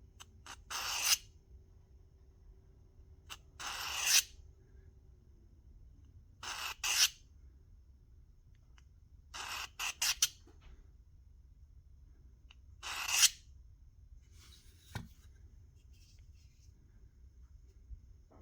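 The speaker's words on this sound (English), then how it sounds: "And for the sharpening, I have that great little cold steel sharpening rod." A Rizzuto Estileto blade is drawn across a Cold Steel sharpening rod in about six short, crisp scraping strokes, each close and separated by quiet pauses of a couple of seconds.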